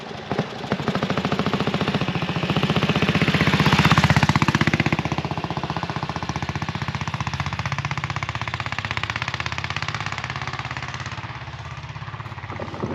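A BSA motorcycle engine runs steadily in first gear, close and loud, with a dense rapid firing pulse that swells slightly around the middle and then settles, with no voices over it.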